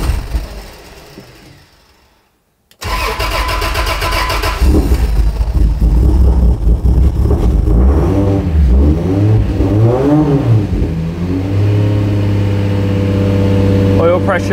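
A Toyota 80 Series 4x4 engine starts after a brief quiet moment, then revs hard in repeated rising and falling bursts before settling toward a rough, steady idle, loud and close throughout.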